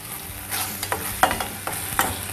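Green chilies sautéing in a pan, a soft steady sizzle punctuated by several sharp scraping clicks of a spoon stirring, close up, with no voices.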